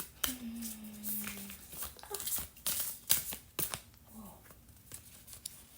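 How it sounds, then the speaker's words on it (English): A deck of playing cards shuffled roughly by hand, with a few cards spilling out: crisp, papery riffling bursts and flicks in an uneven rhythm, close to the microphone, with a faint low hum underneath. "That was kind of a hard shuffle."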